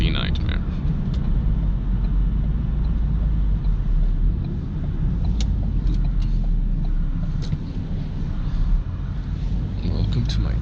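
A Ford Focus RS being driven on the road, its engine and road noise a continuous loud low rumble with wind buffeting, alongside someone talking.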